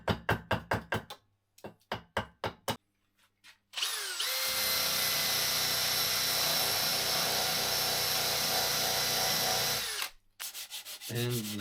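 A power tool works a wooden gunstock for an ATA Arms Neo 12 semi-auto shotgun: first a run of short rhythmic rasping strokes, then a loud, steady grinding whine for about six seconds, ending with more brief strokes.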